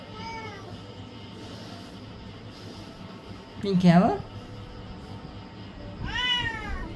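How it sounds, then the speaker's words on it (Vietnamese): A cat meows loudly and close by, with a rising-and-falling call near the middle and another shorter meow at the end, while people talk steadily in the background. "mèo ăn chanh nhỉ"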